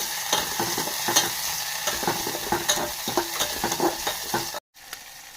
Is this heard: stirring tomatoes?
yes